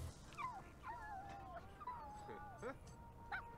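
A dog in The Sims 4 whimpers in a series of thin, rising and falling whines, several short cries spread over a few seconds above a low steady game background.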